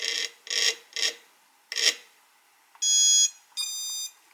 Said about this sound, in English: you can hear the ESC is resetting